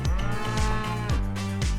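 A cow in a barn during milking lets out a series of several close, loud moos in quick succession, each a deep drawn-out low call, with no talking.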